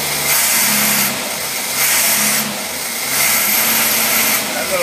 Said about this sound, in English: we'll put it in the dyno, put it in gear and see if it'll even put out any torque at all